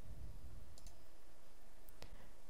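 Several crisp computer mouse clicks sound close by in a quiet room, one quick double click early and two single clicks later.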